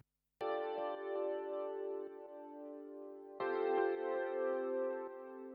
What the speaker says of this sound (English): Then I've got this Addictive Keys plugin, which is really, really nice for like these dreamy electric piano sounds.